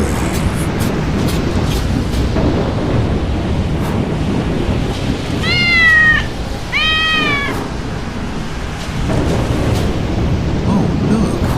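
A small cat meows twice in quick succession over loud, steady wind and surf noise at the seaside during a storm, the cries clear but partly buried in the roar.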